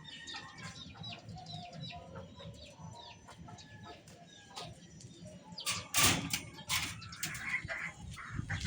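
Chickens on a rooftop cluck and chirp in soft, scattered calls, with rustling and a brief clattering bang midway, faint and moderately near.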